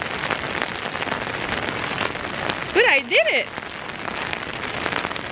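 Rain falls at Zelenci lake in Slovenia, a steady close patter and hiss throughout, while a person briefly speaks partway through.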